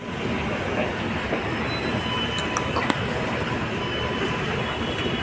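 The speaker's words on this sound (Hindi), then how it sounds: "बस ये ट्रेन मेट्रो चलेगी आगे को" A Delhi Metro train rumbles steadily along with a constant broadband roar and faint metallic clicks and a brief squeal partway through.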